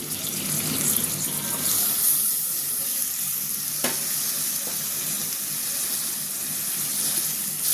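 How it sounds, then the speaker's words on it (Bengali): Water runs steadily into a bowl, a continuous splashing stream with a couple of light knocks. "বাটিটা পানি দিয়ে দিলাম"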